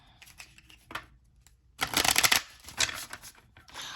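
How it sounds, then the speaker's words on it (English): A deck of semi-glossy, slightly stiff oracle cards without gilding is shuffled in the hands. Soft taps and riffles lead into a louder flurry of shuffling near the middle, followed by a few more rustling passes. "They're slightly stiff, but you know, they still shuffle."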